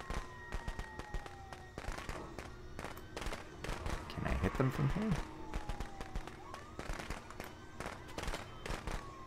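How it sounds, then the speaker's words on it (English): Firecrackers go off in Friday the 13th: The Game as a rapid run of sharp pops and crackles, scattered across the whole stretch at moderate loudness, with a player talking over them. "And they got firecrackers"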